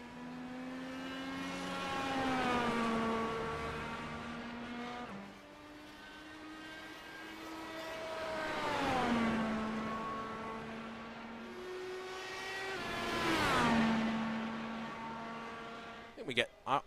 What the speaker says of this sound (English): So we hear engines spooling up.